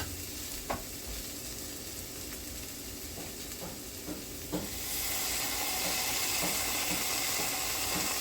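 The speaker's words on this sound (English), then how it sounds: "at this point I'm going to add the tomato paste." Vegetables fry in a pot for a beef ragu, with a steady close sizzle and occasional spoon taps, and the hiss grows louder and brighter once tomato paste goes in.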